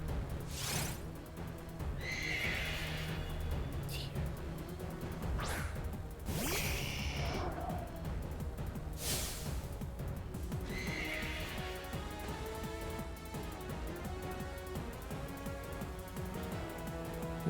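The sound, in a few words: icy horse neighing, Pokemon Sword video game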